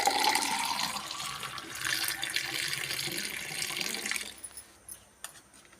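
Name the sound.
pouring pineapple crush syrup into a drink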